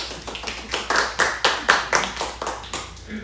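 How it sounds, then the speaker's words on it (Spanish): Hand clapping from a small group at a finance workshop class, with distinct claps in a loose, uneven rhythm, fairly close and moderately loud. "Vamos a dar un aplauso."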